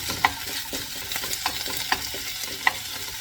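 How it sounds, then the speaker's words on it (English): Teriyaki beef frying in a pan as the pieces are flipped, a steady close sizzle with a few sharp metallic clicks of the utensil against the pan, no voices. "Alright, now I'm going to give them a flip."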